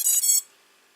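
Drone ESCs on an SP Racing F3 EVO flight controller beep once when power is connected: a single short, bright electronic tone lasting under half a second, then near silence.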